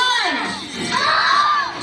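A group of children shouts together at a lively event in SM City Rosales mall, a loud sustained burst of overlapping voices and cheers filling the space.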